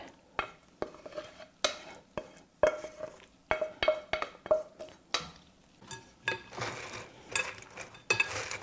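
Sautéed carrots and mushrooms, still hot, get stirred into bread for a vegan stuffing: a run of irregular scrapes and soft clinks from a utensil against a bowl, close and moderately quiet, with short pauses between strokes.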